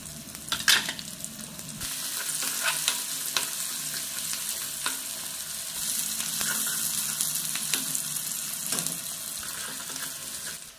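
Onion and cumin sizzle and fry in hot oil for a Katulya bhaji, a steady close crackle with occasional stirring clinks and scrapes, no talking.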